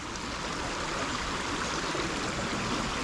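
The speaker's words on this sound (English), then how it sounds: "we're finally back out on the creek" A clear creek flows steadily on a cold day, a continuous broadband rush of water, close and even throughout with no voices.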